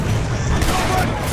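Gatling gun fire in the Western video game Red Dead Redemption, a dense, continuous rattle of rapid shots for a brief, loud burst with no pauses.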